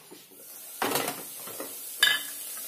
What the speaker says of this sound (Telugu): ఇది బాగా వేయించుకోవాలి నూనెలో.